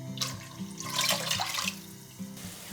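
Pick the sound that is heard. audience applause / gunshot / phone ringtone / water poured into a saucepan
water poured into a saucepan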